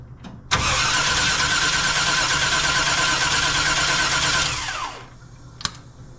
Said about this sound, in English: Go ahead and keep cranking it over.